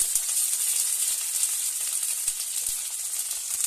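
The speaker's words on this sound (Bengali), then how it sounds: "এটা নামিয়ে নিয়ে তেল দিয়ে এবার এটা পেঁয়াজ দিয়ে দিচ্ছি।" Onion fries in oil in a pan, giving a steady, close, hissing sizzle with a few faint pops.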